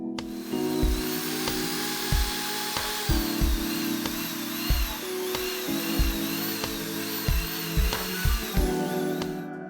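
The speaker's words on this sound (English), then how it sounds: "Then, I can now strip off the paint and rust from the chassis." A power tool grinds and scrapes paint and rust off the chassis of a Honda EP1800 generator with a GX160 engine, a steady motor whine that repeatedly bogs and surges as it bites into the metal, loud and close.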